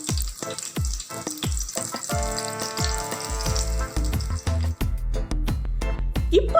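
Chicken seekh kebabs fry in a hot pan with a loud, continuous sizzle, broken by repeated thumps and clatter as they are turned, with no talking.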